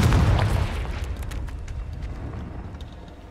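A Confringo blasting spell detonates in Hogwarts Legacy, a single loud booming explosion at the start that rolls off into a long, fading rumble.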